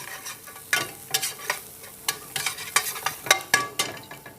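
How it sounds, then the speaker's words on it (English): Garlic cooks in a pan for chicken piccata with a faint sizzle, broken by a series of sharp scraping and clattering stirs at an irregular rhythm, close and fairly quiet. "we're going to throw in some garlic. Get the garlic cooking in here a little bit."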